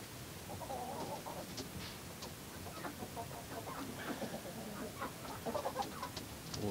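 Chickens cluck and murmur while picking at a feeder, a continuous soft chatter of short clucks and low calls from several birds nearby, with faint scratching and pecking underneath and no talk.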